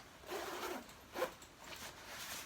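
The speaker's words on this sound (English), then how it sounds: "Let's zip up, inaugural zipping up." A coat zipper being pulled to join a sewn lining to the outer coat, heard close up as a few short, quiet rasping zips in quick succession, with no talking.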